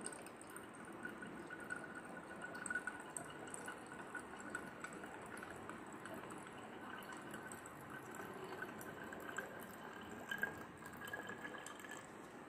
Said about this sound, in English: please add the distilled water up to the mark